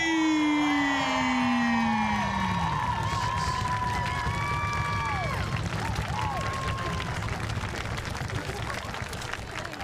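A large crowd at a buhurt medieval combat tournament roars and cheers loudly throughout, with whoops and shouts rising over a steady wash of noise, while an amplified announcer's voice calls out at the start.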